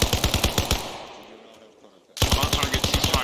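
Rapid automatic gunfire from ARMA Reforger plays as two close bursts of evenly spaced shots, separated by a gap in which the echoes fade away.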